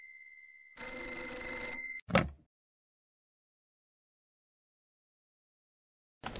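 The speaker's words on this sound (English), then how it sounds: "Oh, the phone's ringing." Electronic telephone ring in the horror video game Mermaid Swamp, a single shrill, steady ringing burst for about a second, then a short thud and silence.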